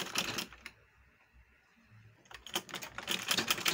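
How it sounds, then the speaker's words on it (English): A sewing machine back-stitches fabric for a beauty bag, with quick rattling bursts of stitching at the start and end and a quiet pause between them. "Let's come back stitches and we are done with this."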